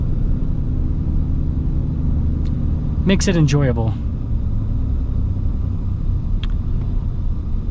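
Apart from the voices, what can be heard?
2025 Ram 2500 Longhorn truck engine idling along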